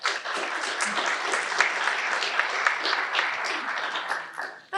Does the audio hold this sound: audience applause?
yes